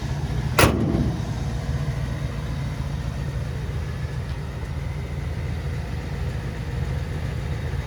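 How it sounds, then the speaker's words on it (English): A restored 1956 Plymouth Fury with a 303 V8 idles with a steady low rumble, opening with a single sharp bang before settling into an even, continuous idle. "Motor sounds great."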